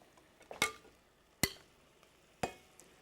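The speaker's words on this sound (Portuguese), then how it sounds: "Deito-lhe agora o feijão." Three sharp metallic clinks, spaced about a second apart, as cooked beans are spooned into a pot of seafood feijoada, with a faint background hiss.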